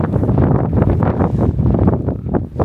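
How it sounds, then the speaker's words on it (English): Strong gusty wind batters a tent panel during wild camping in Scotland in stormy weather, a loud continuous roar with rumbling microphone buffeting and flapping that swells and dips throughout. "It's the wind hitting that."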